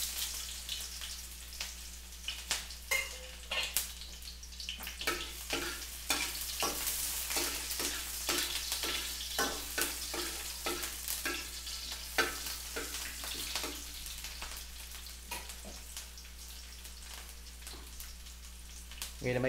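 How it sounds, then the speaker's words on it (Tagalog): Onion and garlic sauté together in hot oil, a continuous close sizzle crackling like light rain, with frequent spatula stirring scrapes and faint talk in the background. "Mainit na ang mantika, pwede natin pagsabayin ang sibuyas at bawang."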